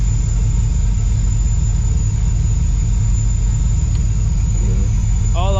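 An LS-swapped Nissan 240SX drift car idles running slightly lean, a steady loud deep engine rumble, continuous and close, with faint whining squeals near the end.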